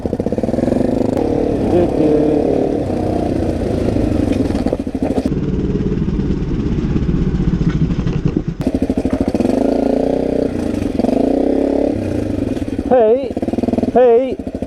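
A motorcycle on tubeless tires at full road pressure runs steadily throughout, a continuous loud engine drone with shifting pitch, while people talk over it and a brief warbling tone rises near the end.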